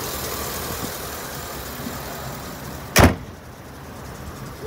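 A 2015 Chevy 3500 utility truck's Vortec V8 engine idling steadily at close range, a low continuous rumble, then a sharp thud like a door slamming near the three-second mark.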